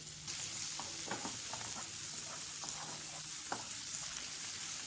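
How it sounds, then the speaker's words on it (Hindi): Chopped onions, three medium-to-large ones, sauté in butter in a pan for a Hyderabadi egg malai korma, giving a steady close sizzle with a few soft scrapes and clicks throughout, no voices. "इन्हें सॉटे कर लेते हैं, यानी हल्का सा फ्राई कर लें"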